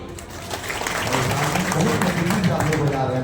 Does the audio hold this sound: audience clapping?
yes